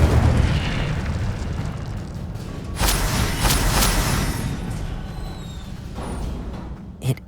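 The Incendio fire spell in Hogwarts Legacy erupts in a few loud whooshing bursts of flame over a rumbling game soundscape, then fades, followed by a single short thump near the end.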